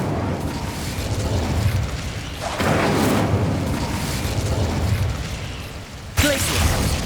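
Incendio fire spell blasts cast in Hogwarts Legacy on PS5: loud whooshing, roaring bursts of flame with booming impacts, one surging blast after another and a sharp crackling burst near the end, with no talk.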